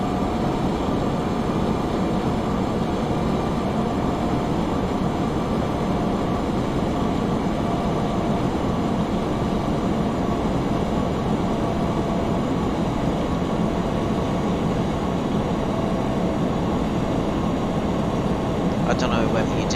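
Steady jet engine roar of a Lufthansa Airbus A320 in Flight Simulator X, a broad continuous whine and rumble that holds evenly throughout with no break.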